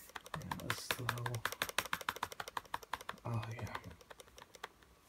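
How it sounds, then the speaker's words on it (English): Rapid clicking while playing Cookie Clicker comes as a fast, steady stream of sharp taps close by, with a voice speaking briefly over it. "keep on clicking, keep on clicking, and keep on clicking"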